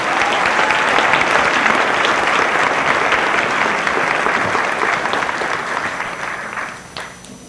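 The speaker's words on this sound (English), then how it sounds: "Please give Gerardo a round of applause" An audience applauds an award recipient at an MLK celebration, a loud, sustained clapping crowd that thins out and tapers toward the end.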